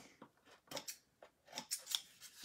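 Scissors snip through card stock while trimming a papercraft card, a series of short close cuts with brief pauses, quiet and without talk.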